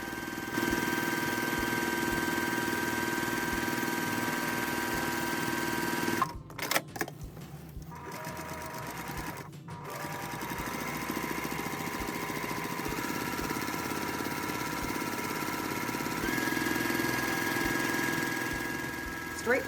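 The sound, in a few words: sewing machine stitching straight-line quilting with a quilting bar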